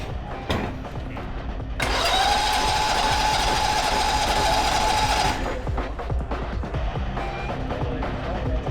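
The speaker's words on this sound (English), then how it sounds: "now I'm having trouble where the starter is making a weird noise" A Tools for the Trades Monster Jam mini build truck's engine starter whirs with a steady mechanical whine for about three seconds, loud and close, after cranking noises, with fuel-starved turning over around it.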